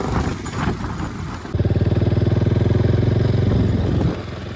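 A parked motorcycle's engine sits running at idle nearby after a ride to the seaside, its steady, even putter loud and close for a few seconds before dropping away.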